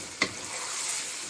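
Chopped onion fries in a pan for a chicken vegetable spaghetti, giving a soft, steady sizzle with one brief stir clink near the start, close and quiet, with no talking.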